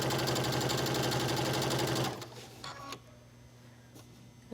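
Sewing machine stitching a knit fabric ruffle and binding for a one-armed top, a steady rapid mechanical chatter for about two seconds, then stopping, leaving faint handling noises.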